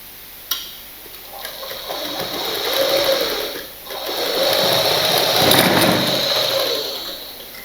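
A sewing machine stitches a blouse, starting with a sharp click, then running in two sustained whirring bursts with a short pause between them, close and fairly loud.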